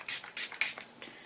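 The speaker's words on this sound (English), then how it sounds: "Just quickly going to refresh the skin with the SheGlam Matte Fresh Setting Spray" Three quick bursts of SheGlam Matte Fresh setting spray misted onto the face, followed by a fainter fourth puff, each a short close hiss with no talking.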